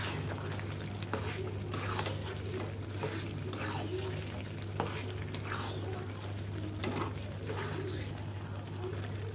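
Sweet and sour mango pickle with panch phoron and cumin powder being stirred in a pan over medium heat: a soft, continuous fry with repeated scraping strokes of the spoon over a steady low hum.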